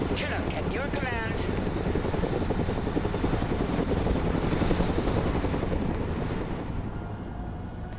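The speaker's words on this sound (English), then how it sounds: "Armored transport is ready. Chinook, at your command." A Chinook helicopter in the video game Broken Arrow flies close with a steady loud rotor roar and wind rush, under radio-style voices talking.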